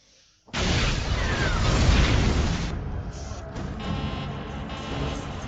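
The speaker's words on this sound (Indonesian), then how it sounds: "sebuah mobil meledak setelah seorang wanita pergi meninggalkan mobil tersebut" A sudden loud car explosion in a film erupts from silence, then a heavy roaring rumble and crackle that lingers for several seconds.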